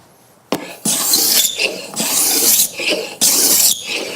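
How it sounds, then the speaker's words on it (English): A sharpened cabinet scraper rasps across curly walnut in several long strokes, each a loud, bright scraping burst separated by brief pauses, close up with no talking. "let's try out this scraper."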